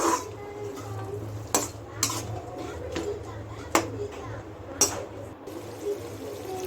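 Tomatoes being stirred in a pan make a handful of sharp utensil clinks and scrapes spaced a second or so apart, over a quiet low hum and soft bubbling.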